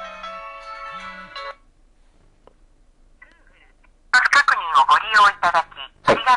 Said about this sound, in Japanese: そうすると、電話がかかってきます。